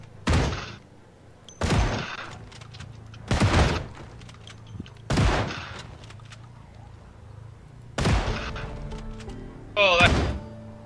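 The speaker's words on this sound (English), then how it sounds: "The shotgun just eats them." A shotgun in the Project Zomboid video game fires at a zombie horde, giving six loud, evenly spaced blasts about every second and a half, with voices talking between the shots.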